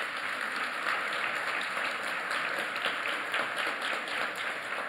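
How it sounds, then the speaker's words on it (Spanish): Audience applause at a talk, a dense, even wash of many hands clapping that holds steady from start to finish, with no voices over it. "a quien pido un gran aplauso."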